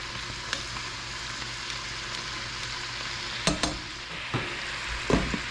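Green beans and dried tofu stir-fried with salted eggs in a pan, a steady close sizzle of frying broken by a few sharp scrapes and clacks of stirring.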